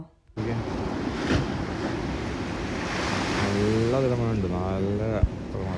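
Sea waves at a beach in Spain, a continuous broad surf roar with wind buffeting the microphone, while a person talks over it in the latter half.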